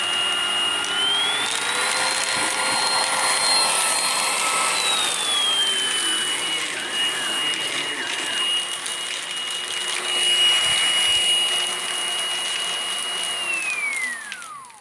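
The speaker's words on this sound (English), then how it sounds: "I have the vacuum telling me that I need to clean the brush roller." A Hoover Blade Plus vacuum cleaner runs continuously with a high whining motor tone that climbs, holds, settles back and finally winds down as it is switched off at the end.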